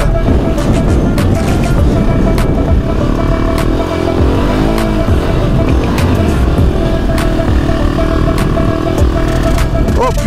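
AJP PR7 rally motorcycle running at full throttle through sand in a Moroccan desert rally, its engine a loud, continuous, rough roar held steady throughout, with clattering mechanical noise.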